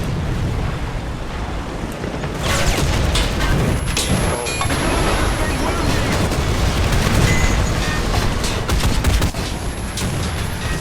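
Tank cannon fire in the War Thunder video game, a dense continuous barrage of booms and rumbling gunfire, loud and close, with a sustained roar and no clear gaps between shots.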